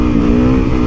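A standard manual-shift motorcycle revving hard as it lifts into a wheelie, a loud, close, steady engine whine lasting under a second with no talk.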